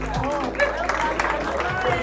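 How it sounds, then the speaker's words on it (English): Audience applause at a Kenyan brand awards event, a dense wash of clapping and crowd noise mixed with babble and a voice talking over it, loud and continuous for two seconds. "One more round of applause for the team from Safaricom"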